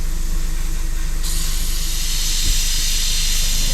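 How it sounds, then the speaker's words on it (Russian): A loud, continuous hiss of steam sounds from an engine being started, steady throughout and close, over a low rumbling drone, with a brief thump midway. "Второй двигатель запускай."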